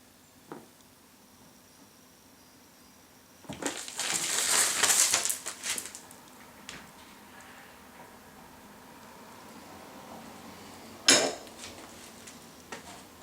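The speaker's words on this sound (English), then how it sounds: "Keep torquing it down till you get the rivet busted." Adjustable wrench cranked down on a rivet to break a Tru Cut P-20 reel mower wheel drive chain, giving a burst of grinding, crunching metal strain followed later by a single sharp metallic snap, close and alone.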